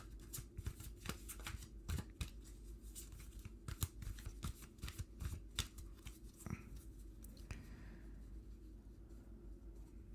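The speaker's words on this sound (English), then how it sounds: "Cards are flying." A deck of playing cards is shuffled close by in a dense burst of crisp riffling and flicking. The snaps are irregular and come fast over a low background hum, fading into a few scattered taps near the end.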